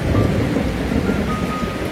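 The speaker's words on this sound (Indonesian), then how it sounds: "terdengar sambaran petir yang langsung turun" Heavy rain pours down under a dark stormy sky, with a deep thunder rumble beneath a dense, steady wash of loud noise. No voices.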